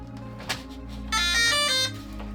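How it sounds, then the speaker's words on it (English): Electronic beeps from an RC airplane controller on a FPV-equipped Aeroscout, a short tone followed by a brighter sustained beep over a low steady hum, close and moderately loud. "I'm just going to quickly connect the controller because otherwise it's going to continue beeping"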